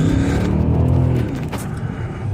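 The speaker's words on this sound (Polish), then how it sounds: "No dosyć przyjemnie ten wydech brzmi." An Infiniti FX45 engine and exhaust rumble steadily, close and fairly loud, with the deep note easing slightly partway through.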